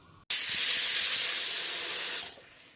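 A pressure cooker whistle releases steam in a Tamil home kitchen while sambar and rice are cooked, one loud, sustained hiss lasting about two seconds that starts abruptly and fades out.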